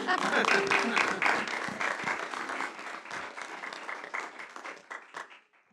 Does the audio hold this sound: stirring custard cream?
no